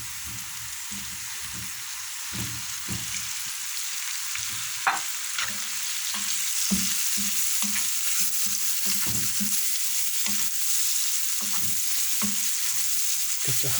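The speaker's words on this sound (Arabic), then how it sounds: "دابا ملي تقلات ودخلت فيها العطيه غنزيد عليها الكفته" Minced-meat kofta fries with onions in a pan, giving a continuous close sizzle broken by repeated scraping and stirring strokes that come in an irregular rhythm, with no talking.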